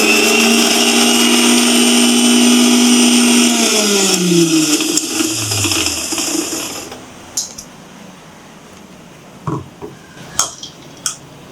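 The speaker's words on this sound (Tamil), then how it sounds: "வாழைப்பழத்தை கொஞ்சம் ஒரு இதை போட்டு அரைச்சிடுவோம்." A mixer grinder grinds banana for sweet wheat-flour appam batter. A loud whirring motor runs, then winds down, followed by a few scattered clinks and taps of the jar once it stops.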